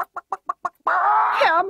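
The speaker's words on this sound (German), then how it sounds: "Hermann, dieses verrückte Huhn ruft schon wieder an." Chicken in a German TV commercial: five quick, evenly spaced clucks, then a loud, drawn-out squawking cackle close up.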